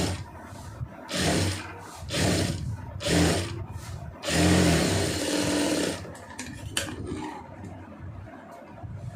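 A sewing machine stitches a fabric band in several short bursts of fast running stitches, close by, with brief pauses between runs.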